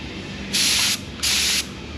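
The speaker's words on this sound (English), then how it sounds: "I'm gonna set it up and spray a test pattern so you can see what it would look like normally." Paint spray gun firing a test pattern during primer and paint work on a Firebird, two loud bursts of high hiss, each about half a second, separated by a short pause, with no talking.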